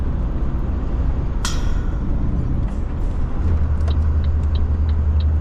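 Traffic on a country road rumbles past as a loud, low, continuous drone, with a sharp hiss of air brakes near the middle and a deeper steady engine note building toward the end.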